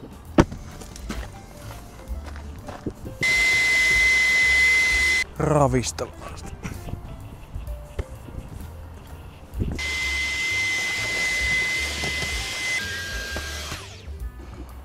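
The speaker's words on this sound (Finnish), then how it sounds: "Sitten vaan imuroimista täältäkin." Vacuum cleaner cleaning a car's interior, running in two steady loud bursts of several seconds each with pauses and handling noises between, while a person speaks briefly.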